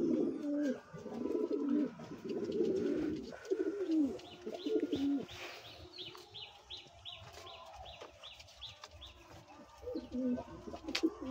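Satin and Lakka pigeons coo in low, throaty bursts close by in a loft, joined by faint chirps and a run of quick, high repeated calls in the middle.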